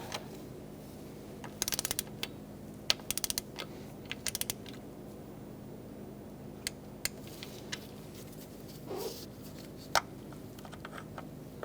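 A ratchet tightens valve cover bolts on a 2002-2006 Toyota Camry, giving short bursts of quick clicking at intervals over a low steady hum, quiet and close, with no talking.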